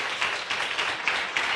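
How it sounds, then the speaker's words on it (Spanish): A church congregation applauds during a Spanish-language service, a steady, dense wash of many hands clapping at moderate loudness, with slight swells throughout and no voices on top. "Puede darle un aplauso al Señor en esta hora."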